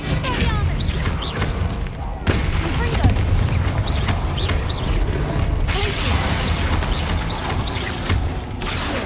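Confringo blasting-spell explosions in Hogwarts Legacy combat: loud booming bursts and crackling magical impacts over a dense, continuous wash of game battle noise, with sharp changes near two and a half and six seconds.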